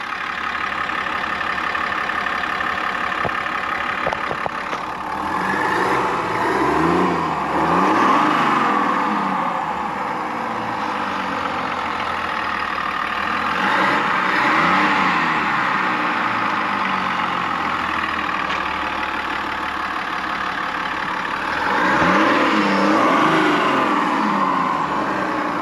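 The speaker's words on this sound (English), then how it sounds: "that nice diesel idle that we all love" A 3.0 LZ0 Duramax diesel engine in a 2024 Chevy Silverado ZR2 idles with a deep, steady clatter, swelling in a few long revs that rise and fall before settling back to idle.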